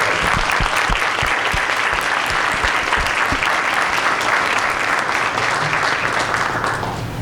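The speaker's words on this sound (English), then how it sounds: "Let's give them a round of applause." An audience at a school district board meeting gives a round of applause for students' exhibited artwork, a loud continuous wash of clapping that fades slightly at the end.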